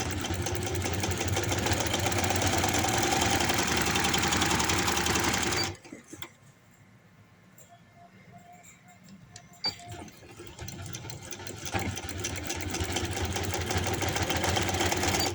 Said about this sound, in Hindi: आप लोगों ने सिलाई लगाते जाना है